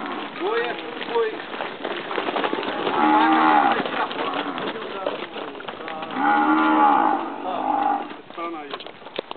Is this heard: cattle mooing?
yes